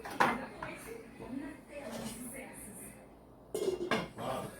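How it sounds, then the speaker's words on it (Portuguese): A cooking pot being covered with its lid while corn cream simmers, giving a few metallic clinks and clatters of pot and lid close by, with brief handling noise around them. "Você vai fechar a sua panela"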